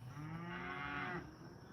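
A single drawn-out cow moo carries from a field near water, low and fairly quiet, rising slightly before it breaks off, with no voices over it.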